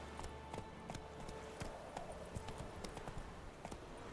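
Hoofbeats of the horse Roach galloping in The Witcher 3, a steady run of clip-clop thuds at moderate level over a low ambient rumble, with no talking.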